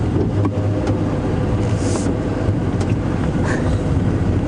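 Land Rover safari vehicle driving slowly along a bush track on an afternoon game drive, a steady close engine rumble with road noise that carries on unbroken throughout, with no voices.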